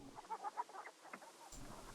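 Faint, soft clucking from chickens in the King's Quest III computer game, a few short irregular calls against a quiet background.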